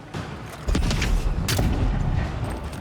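Gunfire in the fantasy game Avowed: a few heavy booming shots with rumbling low-end tails, the first arriving sharply after a brief quiet start and the blasts then rolling together.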